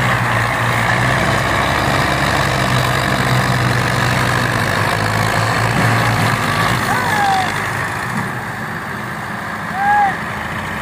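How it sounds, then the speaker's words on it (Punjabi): A Belarus MTZ tractor, model 21, runs with a steady low engine drone that stays close and continuous throughout, with faint squeaks near the end. "ਇਹ ਟਰੈਕਟਰ ਹੈਗਾ ਹੈ 21 ਮਾਡਲ, ਅਤੇ ਇਹ ਹੈਗਾ ਹੈ MTZ"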